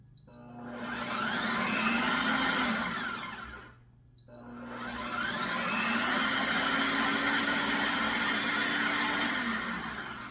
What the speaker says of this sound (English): So put 1 can in, blender, you chop it up.